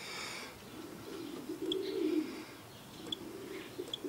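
Racing pigeons returning to a loft coo in low, rolling murmurs that swell and fade, with a few sharp chirps and small bumps nearby.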